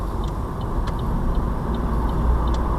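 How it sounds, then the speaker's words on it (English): Turn signal in a Mini ticking in a steady, even rhythm, faint clicks inside the car beneath a constant road and engine rumble. "left signal back on"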